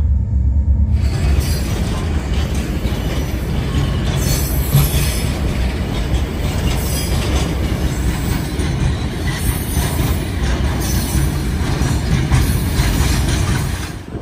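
A passenger train on a long, hot journey across the Sahara rolls loudly and steadily as another train passes, its wheels squealing and clattering under a continuous heavy rumble with no talking.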